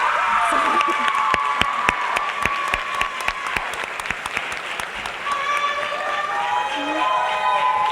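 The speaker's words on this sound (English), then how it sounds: "Clap it up." Sustained applause and cheering from an audience at a high school sports awards ceremony, steady sharp clapping with whoops and shouts throughout, some voices rising over the crowd near the end.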